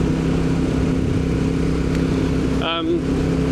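A Royal Enfield Bullet motorcycle cruising at around 70 mph, its steady engine drone close up under heavy wind rush, with a constant low rumble throughout.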